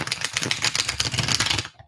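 Tarot cards being shuffled, a rapid dense run of crisp riffling clicks lasting nearly two seconds before stopping abruptly, close and clear with no talk.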